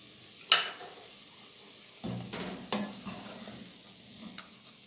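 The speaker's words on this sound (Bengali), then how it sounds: "এই পর্যায়ে আমি ড্রাই ফ্রুটগুলো দিয়ে দিচ্ছি।" Dry fruits are stirred into lachha semai frying in a pan: a few distinct spoon scrapes and clatters, spaced about a second apart, over a faint low sizzle, with no talk.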